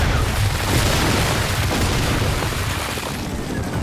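Gunfire and explosions in the video game Gears of War 4 form a dense, continuous wall of booming noise with deep low rumble, staying loud throughout without a clear break.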